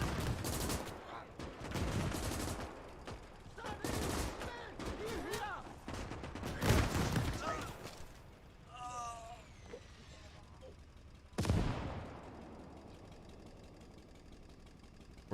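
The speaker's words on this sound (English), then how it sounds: "Oh, friendly mortars are firing." Friendly mortars fire in the WWII game Gates of Hell during an Operation Barbarossa 1941 battle: several heavy booms and rattling bursts come through the mix, the loudest sharp blast near the end, with an engine idling beneath and talk at times.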